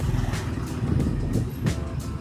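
A motorcycle engine is held at full throttle during a shock absorber test, giving a steady, loud, close mechanical drone with pulsing texture throughout.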